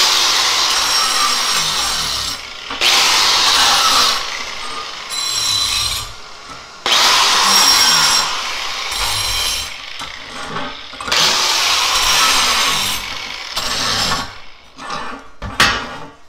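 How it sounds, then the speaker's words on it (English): A wire wheel grinds rust off a metal sunflower in three long, loud bursts of harsh abrasive whirring separated by short pauses, ending in a few brief clacks and touches. "All I have to do is just hit that with my wire wheel and it should come right off."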